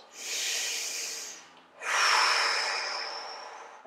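Two long, loud breaths during a home hip mobility exercise: a hissing exhale, a brief pause, then a stronger rushing breath that slowly fades, close to the microphone.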